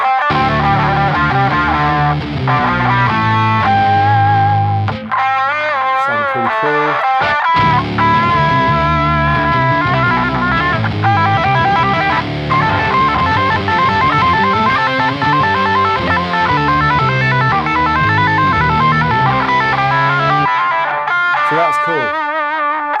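Electric guitar run through a heavy octave effect with distortion plays loud sustained notes and chords with doubled octave tones, stopping briefly a couple of times, and someone speaks briefly partway through.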